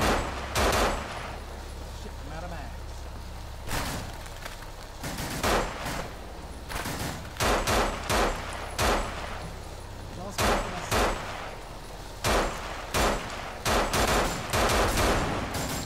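Rapid gunfire in a video game comes in repeated bursts of sharp shots, loud and close, with brief pauses between volleys and a voice talking in places.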